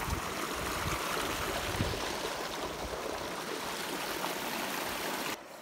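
Stream water flows steadily near a waterfall in a wooded spot, a continuous broad rushing and trickling that stays close and even for several seconds before dropping off abruptly at the end, with no voices.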